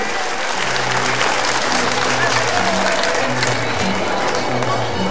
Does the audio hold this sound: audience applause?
yes